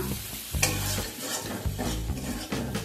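Banana stem and spices being sautéed in a pan for a Bengali banana stem and prawn dish: steady sizzling frying with repeated scraping stirs, close and loud, no voices.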